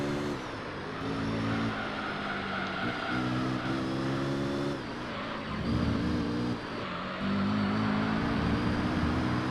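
Race car engine in Gran Turismo 3 howls through repeated rising gear pulls, dropping briefly at each shift before climbing again, moderately loud and alone.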